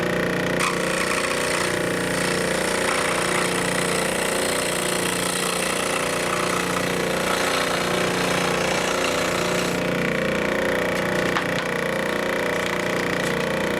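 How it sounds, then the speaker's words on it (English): Jigsaw cutting through wood pieces, a dense, steady buzzing rasp running continuously and loud for the whole stretch. "we can run over to the jigsaw and just cut these out"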